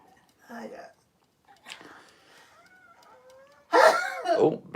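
One loud, sharp human sneeze bursts out close up near the end, after soft whispered talk and a brief throat sound earlier on.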